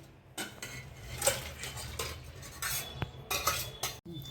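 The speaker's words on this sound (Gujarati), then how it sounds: "હવે આપણે આ બાઉલમાં કાઢી નાખીએ" A spoon scrapes and knocks against a pot and bowl while scooping out cooked sweet potato and potato curry, in a series of soft, irregular metallic clinks and scrapes close by, with no speech.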